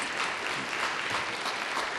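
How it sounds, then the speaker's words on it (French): Audience applause at a youth debate tournament final, steady dense clapping filling the whole moment at moderate loudness with no talk over it. "vous pouvez l'applaudir"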